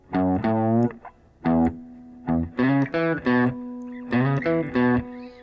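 Distorted electric guitar playing part of a riff, a clear driven phrase of short chopped chords and held notes with brief pauses, loud and up close with no voice.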